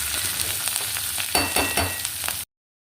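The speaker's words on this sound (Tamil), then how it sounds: "அடுப்பை சிம்மில் வச்சுட்டு ஒரு 4-5 நிமிஷம் நல்லா வதக்கணும்" Chopped pirandai (adamant creeper) sautés in a pan over a low flame, a close steady frying hiss with a few stirring scrapes, ending abruptly.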